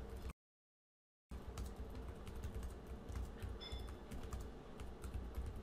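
Typing on a computer keyboard while entering invitees for a Microsoft Teams meeting, a quiet run of quick key clicks after a brief silent gap near the start, fairly close and alone.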